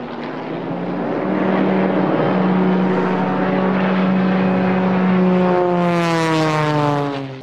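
Race airplanes at an air race in Croatia roar past at around 370 km/h. A loud, sustained propeller-engine drone shifts steadily in pitch as the aircraft passes close by.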